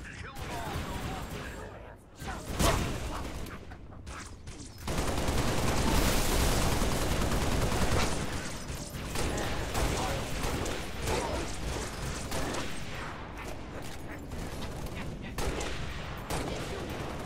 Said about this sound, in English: Hostile fire on my position.